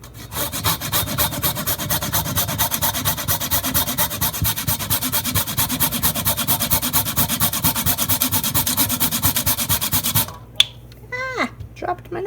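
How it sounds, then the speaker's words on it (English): Fresh nutmeg scraped against a grater over a bowl, a dense steady rasping with rapid strokes running for about ten seconds, then stopping abruptly as a voice speaks briefly. "I'm just going to grate it right into the bowl."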